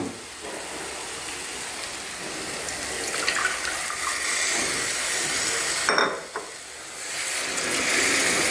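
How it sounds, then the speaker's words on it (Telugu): Water pours into a cooking pot in a kitchen, a continuous close hissing gush that swells slightly and briefly shifts midway, with no talking over it. "ఇప్పుడు మనం 2 కప్పులు వాటర్ వేస్తాం."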